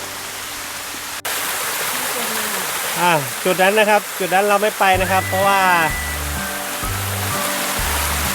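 Bua Tong waterfall in Mae Taeng, Chiang Mai, gives a constant, loud rush of falling water. Someone talks close by over the steady roar, and a brief click and a low hum break in along the way.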